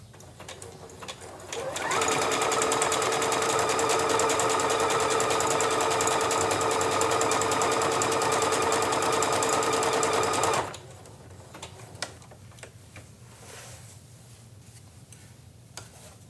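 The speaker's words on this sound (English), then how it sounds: "you might not feel comfortable with how fast the machine is sewing" A Bernette Chicago sewing machine stitching appliqué runs fast and loud for about nine seconds, a dense rapid mechanical stitching rattle, with quieter handling clicks before and after.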